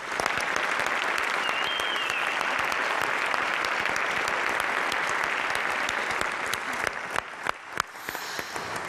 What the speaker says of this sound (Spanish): Un aplauso también para ellos.